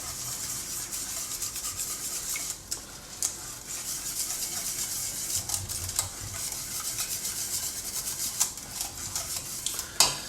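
A spoon stirs ground black pepper into a bolognese ragu for lasagna, giving steady wet rubbing and scraping with occasional clinks against the pot, close and moderately quiet.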